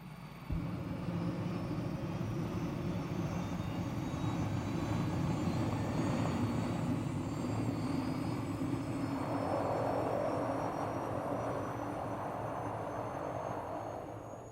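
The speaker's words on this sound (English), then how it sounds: "with the rotor spinning about 125 revolutions per minute, the Rotodyne took to the air." The Fairey Rotodyne, an experimental rotorcraft driven by tip jets, takes off with its rotor at about 125 rpm: a steady, loud engine and rotor roar with a faint rising whine, continuous throughout with no voices.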